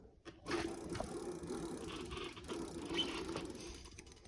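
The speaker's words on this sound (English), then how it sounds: "you can use it for cleaning the sprocket gears, between the gears" A length of broken chain cable is worked between bicycle sprocket gears to clean them, producing close, continuous ratcheting and rattling metal clicks for a few seconds.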